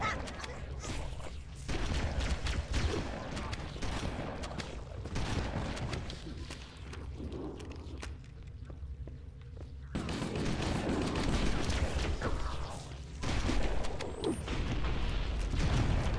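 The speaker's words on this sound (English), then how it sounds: "I love the explosions in this game." In the Halo: Combat Evolved shooter, on Heroic difficulty during the Keyes mission, gunfire and explosions rumble on without a break, loud bursts layered over heavy low booms, with a brief lull midway before the battle swells again.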